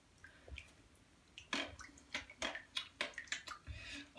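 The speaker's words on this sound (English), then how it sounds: "So now you take it out, let it drip for a little bit." Water drips and splashes from a freshly washed item taken out of a reptile enclosure, a quiet, irregular run of close patters that grows busier toward the end.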